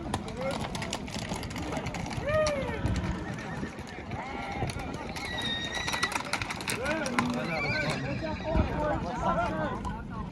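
Horses whinny several times amid a busy outdoor livestock market in Kara-Balta, Kyrgyzstan, with hoof clatter, crowd talk and general commotion throughout.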